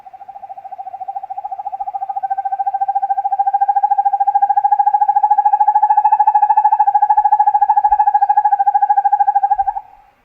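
Northern hawk owl giving a long, steady trilling call, a rapid tremolo of hoots held for nearly ten seconds, loud, clear and alone against silence.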